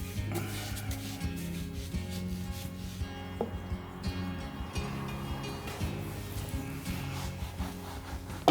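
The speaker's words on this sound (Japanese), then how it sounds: "拭き取りもね、1回も2回もしっかり拭いてね、磨いてあります。" A cloth wipes and polishes oiled wood on a heavy glass-topped table, with a steady, quiet rubbing that continues throughout over a low hum.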